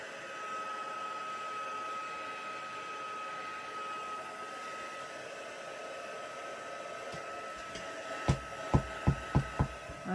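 A hair dryer blows steadily over watercolour ink on paper, a constant close whine and whoosh that holds for most of the time, then a series of sharp knocks near the end.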